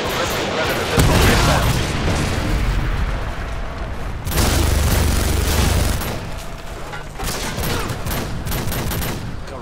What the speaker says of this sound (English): Predator missile ready for deployment.